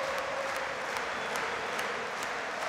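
A crowd of about 35,000 in a football stadium rises for a huge ovation at a farewell, producing a broad, even roar of distant clapping and cheering that holds steady throughout.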